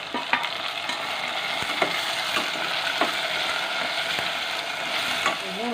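Cubed tomatoes sizzle as they join sautéed onions in a frying pan for a chickpea curry, a steady broadband fry with repeated soft stirring scrapes, close and moderately loud, no talking.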